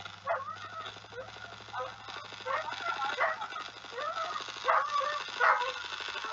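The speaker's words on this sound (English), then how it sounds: "All I hear is your dog going off in the back." A dog barks and yips repeatedly in the background of a home where someone is on a voice chat while playing Roblox, the barks coming in short, fairly faint bursts throughout.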